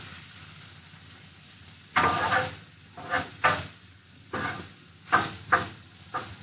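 Breakfast burrito filling fries on a Blackstone griddle with a continuous sizzle, broken by about seven loud scraping bursts as a spatula turns and pushes the food.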